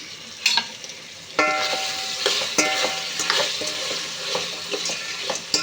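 Coconut rice fries and is stirred in a pan, with a steady sizzle broken by repeated scraping and clinking strokes of a spoon against the metal, close and fairly loud without talk.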